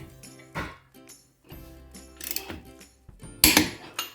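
Torque wrench clicking as wheel lug nuts are tightened to 100 pounds during a tire change, with several sharp mechanical clicks and ratcheting bursts spread irregularly, close and fairly loud.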